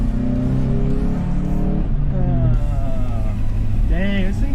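An SR20-powered front-wheel-drive Infiniti G20 revs loudly while driving, its engine pitch climbing and dropping through downshifts as people talk excitedly over it.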